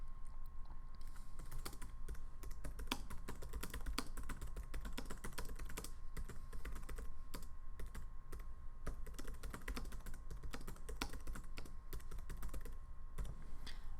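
Steady, fast typing on a computer keyboard, a dense run of close, light key clicks continuing throughout with a faint constant hum beneath.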